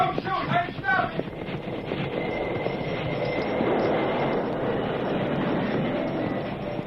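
A steam-era train rumbles steadily along the rails as a sound effect for an old radio western drama, with a continuous rolling clatter and hiss while voices briefly shout at the start.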